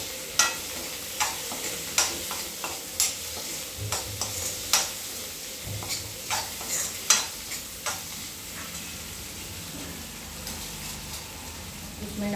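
A vegetable dish for a fasting meal is stirred in a pan, with a soft sizzle underneath and a string of rhythmic spoon taps and scrapes that thin out toward the end.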